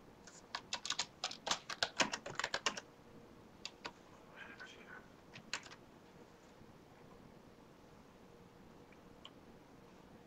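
Fingers typing on a computer keyboard while entering a short description, quick clusters of soft clicks near the start, then scattered single taps growing sparser, faint and close in a quiet room.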